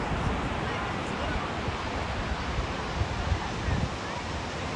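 Ocean waves washing along a beach during a walk, a continuous broad surf wash with wind buffeting the microphone, fairly loud and steady.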